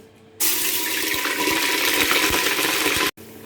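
Puree from two medium onions hits about a cup of hot oil in a cooking pot for chicken handi, giving a sudden loud, steady sizzle that lasts nearly three seconds before cutting off abruptly.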